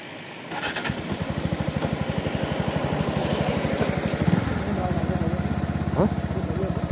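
A motorcycle engine turns over and settles into a steady, close, rhythmic idle that runs throughout. It is heard on an outdoor trip in the Kotagiri hills and stays prominent, with no clear talking over it.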